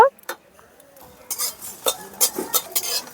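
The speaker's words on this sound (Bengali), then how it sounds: "হালকা একটু ভেজে নেব" Bay leaves and whole coriander seeds fry lightly in oil in a wok, with scattered clinks and scrapes of a stirring utensil against the metal, the sizzle faint beneath intermittent stirring bursts.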